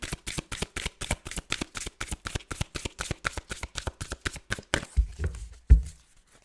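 Tarot cards are shuffled by hand in a quick, steady series of crisp riffling flicks, ending with a few soft thumps and a louder tap as the deck settles.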